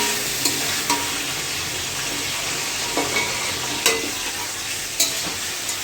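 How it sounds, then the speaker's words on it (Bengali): Chicken for pulao frying on a high flame, a steady loud sizzle with repeated clacks and scrapes of a spatula stirring the meat in the pan, close up and with no voices. "ভালো করে খুব কষাতে হবে এটাকে, হাই ফ্লেমে"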